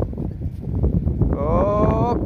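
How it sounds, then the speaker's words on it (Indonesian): Strong wind buffets the microphone at a river estuary during a fishing trip at high tide just after rain, a continuous low rushing roar with someone talking over it toward the end. "Anginnya semakin kesini semakin kencang"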